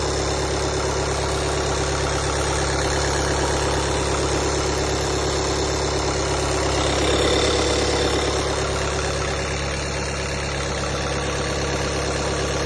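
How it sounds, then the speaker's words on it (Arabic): A car engine idles with an unstable RPM, a steady loud drone with a slight swell in the middle, heard close and alone with no talk. "انا نوريك الموتور من القدام."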